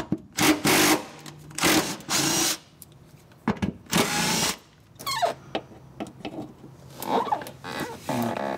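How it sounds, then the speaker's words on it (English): Ratcheting and metallic clicks from a 12 mm socket wrench loosening the bolts of a plate on a Volvo 850, in several close bursts separated by short pauses. "grab your 12 millimeter socket, and you're going to remove this plate with these four bolts"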